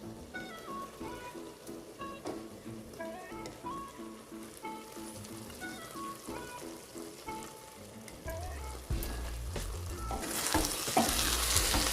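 Curry frying in ghee in a pan, soft sizzling and stirring under faint background music, growing louder and hissier toward the end.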